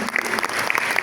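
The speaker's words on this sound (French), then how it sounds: "on les applaudisse directement." A short burst of dense applause from an audience at an international theater symposium, steady and fairly loud for about a second.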